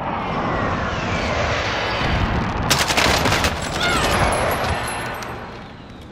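An air strike in Call of Duty: Modern Warfare: a loud roaring aircraft pass with sharp crackling bursts of gunfire and blasts in the middle, the roar fading toward the end.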